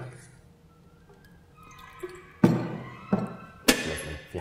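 Water is poured into a cup for a patient in a clinical setting: a soft trickle, then a few louder thunks and splashes near the end, close and fairly quiet.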